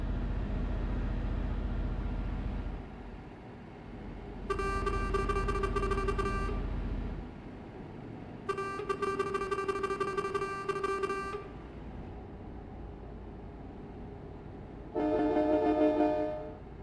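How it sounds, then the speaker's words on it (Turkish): Truck air horns sound in Euro Truck Simulator: three loud, sustained blasts, the last one higher-pitched, separated by gaps over a steady rumbling engine drone. "Havalı kornalarımız da çalışıyor."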